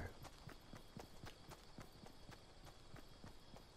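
Regular footsteps in the Fortnite video game, a steady run of soft thuds about every quarter second, moderately close and continuous throughout, with no talking.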